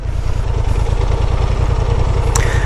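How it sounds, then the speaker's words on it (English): Idling Honda Transalp 750 motorcycle engine running during off-road slalom training, a steady low rumbling throb with even pulses, fairly loud and close, with a brief sharp click near the end and no talk. "Now we're using the idle speed"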